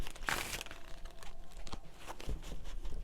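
A deck of tarot cards is shuffled by hand nearby, giving soft papery riffles and crinkling bursts in a short, uneven sequence.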